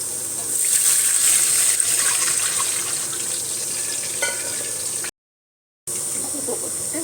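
Water poured into a pan of sautéed ginger and green chili, a loud gushing hiss and sizzle that runs steadily for several seconds before a brief break.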